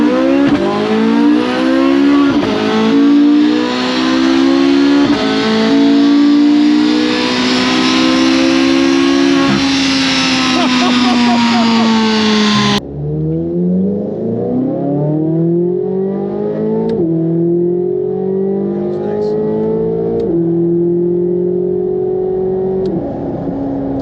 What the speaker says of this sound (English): Everybody's gathered around because they're doing a dyno run of a Z06.